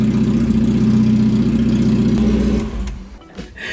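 A Mazda NB Miata with a freshly installed engine runs loudly and steadily up close, a strong low rumble that drops off toward the end.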